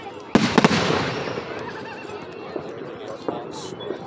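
A Fourth of July firework bursts with a sharp bang followed by a quick crackling rattle, then fainter pops and scattered crackles trail off into the distance as people chat nearby.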